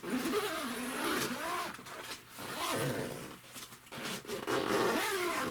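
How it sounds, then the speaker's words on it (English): A zipper pulled steadily all the way around a VermiBag Max worm composting bin, a long rasping run in close, uneven strokes with brief pauses, fairly quiet. "With the way these zippers work, it goes all the way around"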